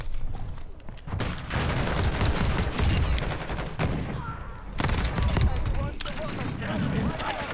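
P890 pistol firing in Call of Duty, with rapid bursts of sharp shots repeating almost without pause, loud and close, over a busy background of game action.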